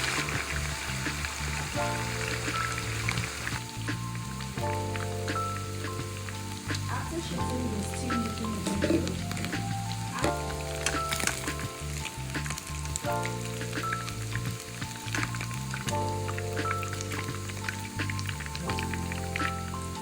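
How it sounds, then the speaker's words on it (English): Chicken pieces fry lightly in hot vegetable oil, giving a steady, dense sizzle with constant crackling and spitting pops that carries on without a break. "Now the next thing you need to do is to lightly fry your chicken."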